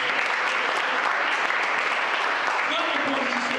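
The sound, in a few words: congregation applauding in church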